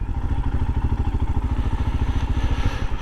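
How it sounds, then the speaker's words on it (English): A group of around twenty motorcycles, including several Royal Enfields, runs nearby, their engines producing a steady low thudding rumble with a rapid regular pulse, loud and continuous without speech. "So I counted about 21 bikes. Quite a few Enfields."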